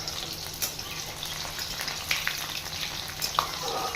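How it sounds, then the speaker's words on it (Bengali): Unpeeled garlic cloves frying in hot oil, a steady close sizzle and crackle with a few sharper pops and stirring scrapes, no voices. "এবার দিয়ে দিব 4-5টা রসুন, আমি ছাড়াইনি খোসাগুলো। তেলের মধ্যে ভেজে নেব।"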